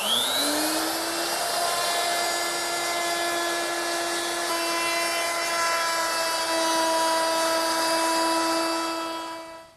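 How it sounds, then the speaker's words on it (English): Router spinning a 1/4-inch roundover bit along ash edges of a drop leaf table, a loud steady high-pitched whine with bright harmonic tones that rises to speed at the start and holds through to a taper at the end. "the last milling operation is to round over these edges on all four sides. And to do that, I'm going to use my 1/4-inch rounding over bit."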